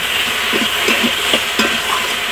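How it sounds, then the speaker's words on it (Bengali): Turmeric powder and a little oil going into a hot pan for a small-hilsa curry, a loud, close sizzle with a few quick stirring scrapes at a steady rhythm and no speech. "এখন আমি হলুদ গুঁড়া দিয়ে দিচ্ছি,"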